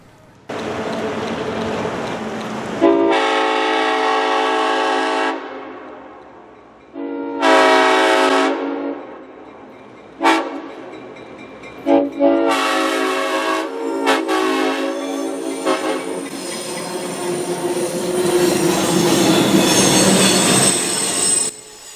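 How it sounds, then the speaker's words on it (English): A loud freight train rumbles past nearby, sounding several long horn blasts in a repeated pattern, then wheels and cars roar on steadily. "watch the train as it came roaring on by"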